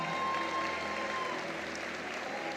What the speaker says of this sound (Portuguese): Forte aplauso para o Wesley, trabalhador.